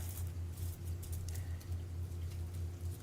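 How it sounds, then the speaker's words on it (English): Heavy rain falls in a steady, dense patter with a constant low rumble beneath, continuous throughout and fairly loud, with no talking. "it's really raining now"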